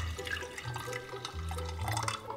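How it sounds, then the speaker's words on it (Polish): Still mineral water pours into a jug of lemonade made with squeezed orange juice, a continuous close gurgling stream lasting a couple of seconds with shifting liquid tones and no talk. "Zalewamy zwykłą mineralną wodą."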